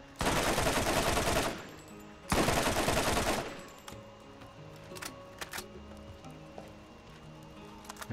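Heavy sustained gunfire from a boss enemy's weapon in the video game Borderlands, two loud dense bursts of about one and a half seconds each, followed by scattered fainter shots and game noise.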